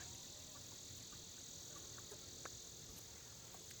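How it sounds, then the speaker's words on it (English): Insects buzz faintly and steadily outdoors, with a thin continuous high drone and a few soft bumps, quiet and close around a person's head; no one speaks. "there's some battling bugs that keep bumping into my head"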